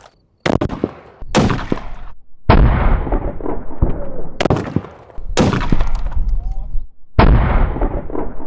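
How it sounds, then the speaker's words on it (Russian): Six heavy, booming .50 BMG French Legion rifle shots fired at a barrel in a video game, each a sharp, loud crack followed by a rolling echo tail, spaced irregularly over several seconds. "И отсюда выстрелю по первой бочке."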